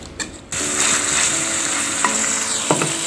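Tempered spices for dal makhani sizzle loudly and steadily in a hot pan, close up, with a few scraping stirs and clanks of a utensil against the pan. A brief quiet moment comes before the sizzling.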